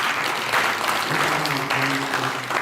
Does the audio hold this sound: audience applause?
yes